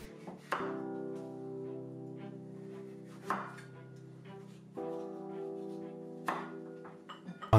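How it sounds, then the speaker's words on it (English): A knife chops peeled pumpkin into small cubes on a cutting board, with a few sharp, distinct thunks spaced a second or more apart over a low, steady background hum. "I'm gonna chop it into 1 centimeter cubes to make it easy and quick to cook."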